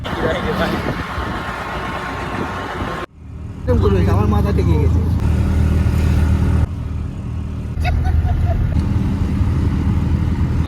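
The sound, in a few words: auto-rickshaw engine while riding from Canning to Sonakhali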